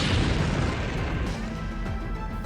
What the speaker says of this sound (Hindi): यूक्रेन के एक राष्ट्रीय स्मारक के पास पुतिन का ड्रोन फटा।